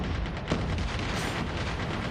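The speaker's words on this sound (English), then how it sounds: "I hear so many gunshots" Rapid gunfire rattles through a Call of Duty: Mobile esports match, dense overlapping shots and distant booms forming a constant, loud barrage with no clear gaps.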